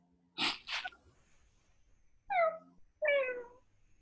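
A cat gives two short, sharp sneeze-like bursts, then two clear, rising-and-falling meows, close and loud against a quiet room.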